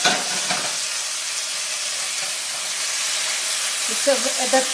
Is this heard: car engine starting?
no